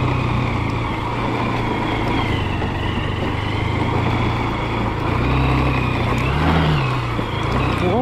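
Vehicle driven along a hill road, giving a continuous, fairly loud engine drone with a low, steady hum and slight shifts in pitch throughout, no speech over it.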